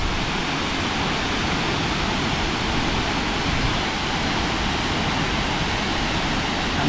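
A waterfall on a winter hike to Rainbow Falls roars as a steady, dense rush of water, loud and close, with no voices.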